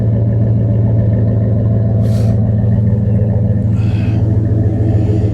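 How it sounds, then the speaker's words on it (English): A Dodge tow truck's engine exhaust rumbles steadily up close, a deep continuous low drone with a brief hiss or rattle now and then over it. "Typical Dodge sound"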